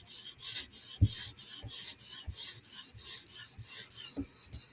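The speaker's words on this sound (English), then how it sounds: "Just real quick, 400 grit, reducing the burr. Doesn't even really need to polish the bevel, just quick scratch pass." A knife blade scrapes across a 400 grit stone on a Hapstone RS guided sharpener in quick, rhythmic rasping strokes, about a dozen passes close to the microphone with occasional sharper clicks, and no talking.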